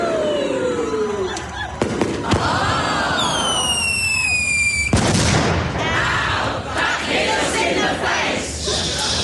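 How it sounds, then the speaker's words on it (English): Fireworks scattered inside a lit pile go off as sharp cracks and booms with whistling rising shrieks, mixed with crowd noise and voices. "the fireworks that are randomly scattered inside it should go off any second"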